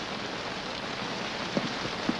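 Steady rain falls in a 1951 classic Western film scene, making a constant close hiss with a couple of soft knocks and no speech.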